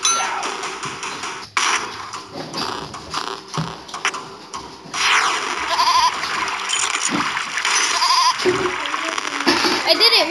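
A goat bleats in a video game, loud and drawn-out, layered over a dense, busy mix of other game sounds that runs without a break.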